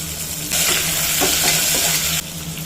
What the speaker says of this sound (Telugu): ఆనియన్ ఫ్రై అయినాయి ఇప్పుడు మనము అంత గింజలు వేసుకుందాము